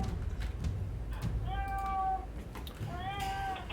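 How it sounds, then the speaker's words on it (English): An angry cat lets out two drawn-out, wavering meows close to the microphone, the second one shorter, over a steady low room rumble. "my cat's angry again, not letting him outside"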